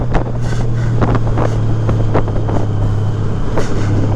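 A 2018 Honda Goldwing Tour with modified stock mufflers and a BT Moto Stage 1 tune rumbles steadily with a low, droning exhaust note, heard on the move under heavy wind buffeting.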